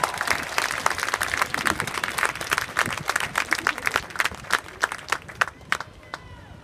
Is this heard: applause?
yes